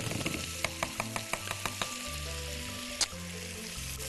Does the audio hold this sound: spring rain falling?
no